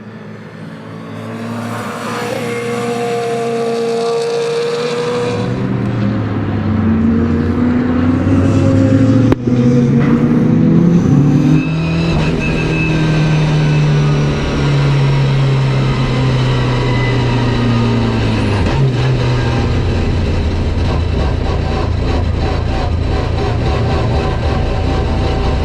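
An SR86 race car with a 650 hp SR20VE engine on a cool-down lap: a loud, close engine droning and shifting pitch as it revs up and eases off, continuous for the whole stretch.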